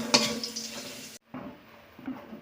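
Cumin, chopped onion and bay leaves fry in oil in a pan for a paneer masala, giving a soft, close sizzle with a brief loud burst at the start, a short pause, then quieter crackling and light stirring.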